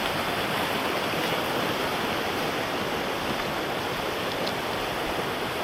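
Glacial river current rushing steadily and loudly, a dense, unbroken wash of turbulent water filling the whole stretch close by, with no voices.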